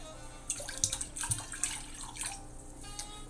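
Water poured into a red wine and vinegar mixture, a close, irregular splashing and trickling pour that runs for a few seconds with no voices.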